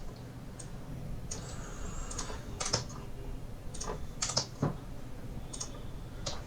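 Keys clatter on a computer keyboard in uneven, sporadic bursts of close clicks with short pauses between them, and no one speaks.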